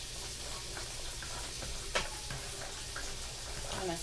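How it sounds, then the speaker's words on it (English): Hot pasta being stirred with melting butter, a soft steady sizzle with light scraping and clicks of a utensil, quiet and close, no voices. "I'm going to stir that in real good"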